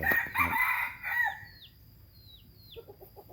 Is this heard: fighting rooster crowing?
yes